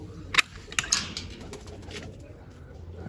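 Pigeons in a loft give soft, low coos over a muffled background hum, with a few sharp chirps and rustles near the start.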